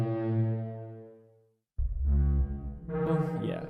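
Modeled Parasaurolophus call made by pushing air through a 3D model of its tube-filled crest: two loud, brassy, air-horn-like blasts, the first fading over about a second and a half, the second after a short silence and carrying on with a rougher edge.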